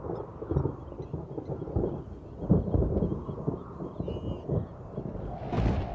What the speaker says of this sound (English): I can also see the first storms approaching.